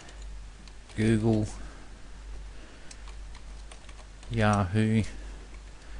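Light clicks of typing on a computer keyboard, entered while setting up automated blog comments in ScrapeBox software, run faint and steady under a voice, which speaks in two short bursts.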